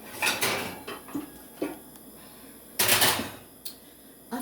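Metal pans and baking dishes clatter as an oven is cleared out, with scattered clanks and scrapes in irregular bursts. The loudest rattle comes late, followed by quieter knocks.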